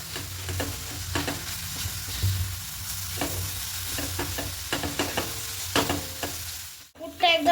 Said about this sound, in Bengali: চিনির সঙ্গে নারকেলটা মিশিয়ে নিয়েছি